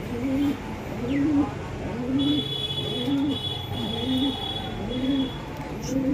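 Racing pigeons coo in a repeated, evenly paced rhythm close by, several soft throaty calls over a low background hum, with a faint thin tone and a distant car in the background.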